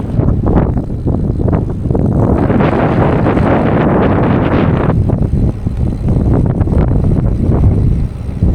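Strong wind buffets the microphone while riding along a street with a tailwind, a loud continuous roaring rumble with gusty swells and no talking.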